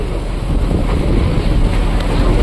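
Steady engine rumble and rushing wind aboard a boat on the water in the Sundarbans, a constant low drone with wind buffeting the microphone.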